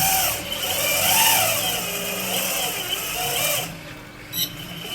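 Hydraulic whine and mechanical movement from the quick coupler on a Liebherr 956 excavator as its locking bolts retract, a steady close machine sound with a brief clunk near the end.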